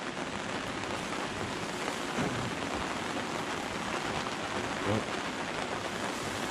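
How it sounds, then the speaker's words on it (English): Rain falls steadily around a deer camp, a dense, even hiss of drops with no break and nobody talking. "We got the rain coming down now."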